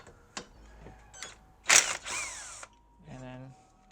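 A power ratchet or drill whirs in short bursts while bracket bolts, 10 mm and 12 mm, are removed from a Hyundai Veloster strut, a loud close burst near the middle, with speech around it.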